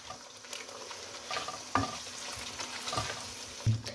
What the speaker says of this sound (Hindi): ये जो चिकन हमने फ्राई किया है वो इसके अंदर डाल दें। इसे मिक्स करें।